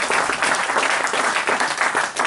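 Congregation applauding the Lord at a church service with a pastor, steady dense clapping filling the room for a couple of seconds, loud and continuous.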